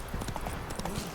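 Horse hooves trotting in The Witcher 3, a steady clip-clop under a dense, noisy background, brief and without clear speech.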